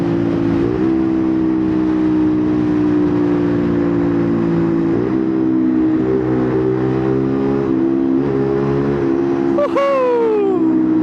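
A Rieju RS3 motorcycle ridden fast across an airfield, its engine droning loud and steady with gear shifts and shifting pitch, heavy wind rush throughout and a brief rising whine near the end.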